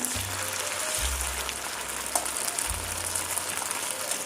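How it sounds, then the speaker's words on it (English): Paneer frying in oil in a kadai, a steady crackling sizzle spread evenly through the whole stretch, with low hum and a few faint clicks underneath. "Now we are placing the paneer into the kadai after filling in the oil."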